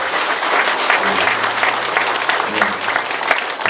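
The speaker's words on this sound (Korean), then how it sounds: "우리 김석돈 사장에게 박수 한번 드립니다." Loud, dense applause from an audience at a district lawmaker's activity report event, many hands clapping continuously and evenly throughout, with a faint low hum underneath.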